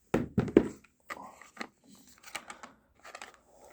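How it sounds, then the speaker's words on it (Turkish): Cardboard lid of a Canik TP9 Elite Combat pistol box being lifted and handled, a run of close thumps, scrapes and soft rustles, loudest early and then lighter. "Kutumuzu şöyle kaldıralım."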